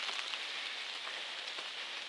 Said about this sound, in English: It's not raining hard, it's just like a little sprinkle